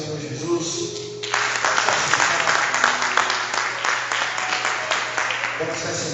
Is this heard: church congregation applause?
yes